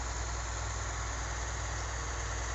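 A farm tractor engine runs at a steady idle during planting, a loud, constant low rumble with a buzzy vibration and no breaks.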